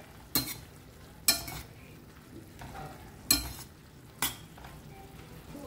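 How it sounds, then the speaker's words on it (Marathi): Fried prawns being stirred in a pan, with four distinct scraping clanks of a utensil spaced about a second apart over a faint, continuous sizzle, heard close with no talking. "आनी आतां आमी घालया फ्राय केलेले प्रॉन्स. सो बरें एका मिक्स करून घेया."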